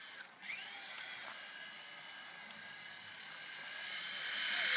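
Helicopter taking off, a steady engine and rotor whine holding for several seconds and growing louder toward the end, with no talk over it.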